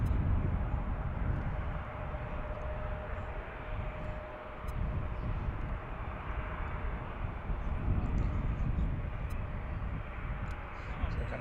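An American Airlines Airbus A319 departs from the runway, a steady, loud jet roar rumbling close by and holding on broadband without letup, with light wind and outdoor background.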